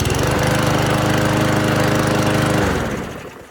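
A new PowerSmart gas lawn mower runs right after its first start with a loud, close, steady buzzing engine drone that fades and cuts off near the end.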